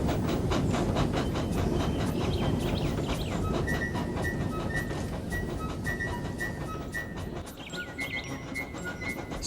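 Steam tank engine train running on snowy rails, a continuous rolling clatter of wheels with rhythmic clicks and puffs, loud at first and slowly easing, with faint high whistling tones later.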